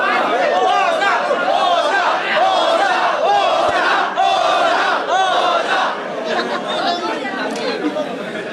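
A loud crowd at a Filipino rap battle erupts in sustained shouting and chatter, many voices overlapping in a dense, continuous roar from start to finish.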